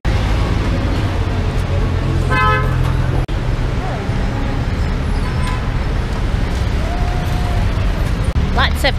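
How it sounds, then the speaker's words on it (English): Bumper-to-bumper traffic fills a busy Davao City street near Christmas, with engines rumbling close by and car horns tooting now and then. Voices can be heard under the steady roadway noise. "Lots of traffic, bumper to bumper"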